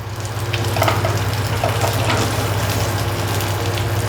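Fried chicken 65 pieces go into a hot pan with spice mixture, raising a loud, dense close-up sizzle that swells and holds steady with faint stirring; nobody talks.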